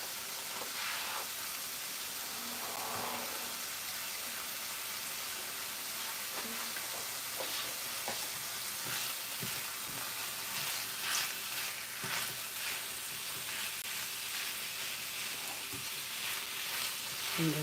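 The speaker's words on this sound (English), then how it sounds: "And we'll just cook the salmon down. Make sure it's cooked all the way through." Salmon frying in a pan for a banh mi sandwich, a steady soft sizzle and hiss throughout with occasional faint clinks, low and even with no talk over it.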